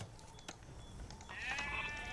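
Sheep bleat in a flock within Age of Empires II during a Chinese start on the African Clearing map, wavering calls rising clearly over a low ambient game bed in the latter half after a brief click.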